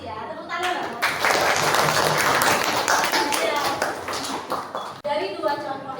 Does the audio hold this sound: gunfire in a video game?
no